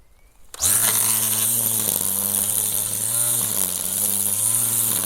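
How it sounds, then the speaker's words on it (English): Battery-powered weed whacker starts up abruptly and runs with a loud, steady electric whine close by, dipping briefly in pitch before holding on, with no voices. "Let's try our new weed whacker."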